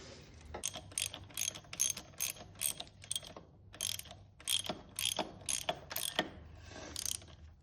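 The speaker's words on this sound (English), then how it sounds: "I'm tightening down the other side of the bolts for the jug." A ratchet tightens the cylinder bolts on a Suzuki RM 250 two-stroke engine during a top-end rebuild, bursts of rapid clicking repeating in steady strokes, close and clear with no talk.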